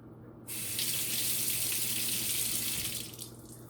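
Tap water starts abruptly and runs steadily onto a compressed toilet paper tablet, a loud close splashing hiss that tapers off near the end.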